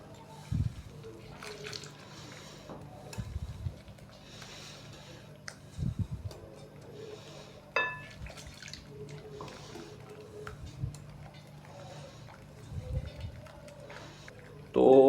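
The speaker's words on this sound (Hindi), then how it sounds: "अभी हम इसके अंदर पानी डालेंगे" Water poured into chicken bread pakora coating batter and mixed in, giving soft, sporadic drips and wet squishing stirs that stay fairly quiet over a low steady background hum.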